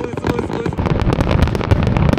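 Fireworks burst in rapid succession at a fireworks festival at Fuji Speedway, with dense crackling pops and booming thuds layered together while people talk.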